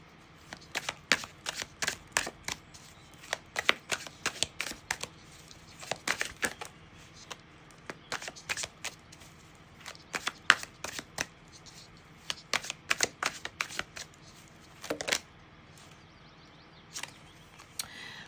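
An oracle card deck being shuffled by hand, producing irregular crisp riffles and soft slaps in quick clusters, close and quiet against a faint room background.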